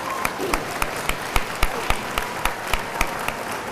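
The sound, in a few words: audience applause for senior athletes at a banquet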